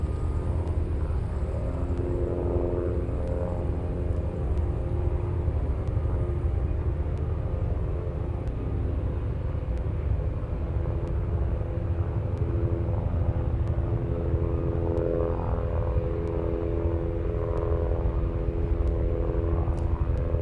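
An Alaska Airlines 737 airliner taxiing toward the runway for takeoff, heard as a steady, droning jet-engine rumble that stays constant throughout, moderately loud, with no talk.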